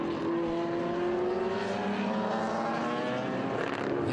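Vintage race cars, including a 2-liter and a 1.8-liter BMW, at Circuit of the Americas, with engines droning steadily at a distance and rising and shifting in pitch as they pass, continuous and moderately loud.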